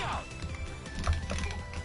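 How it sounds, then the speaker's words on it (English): Keyboard or joystick clicking right against the microphone during a Virtua Fighter 5 league stream, rapid dense taps and clatter under a busy mix of background noise and voices. "the keyboard or the joystick device you're hearing"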